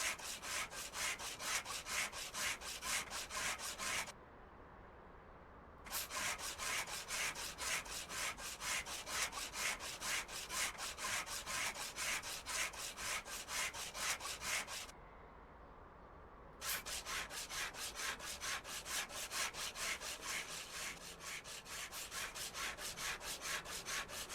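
Rapid, steady rubbing or sanding of car parts in Car Dealer Simulator, a continuous rasping scrub with regular strokes that pauses twice briefly, heard alone without talk.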